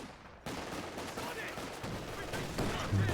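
Dense gunfire rattles through a WWII-style strategy game battle as British troops push under smoke against an enemy machine gun and sniper, with continuous bursts and crackling shots filling the scene and a voice talking over it.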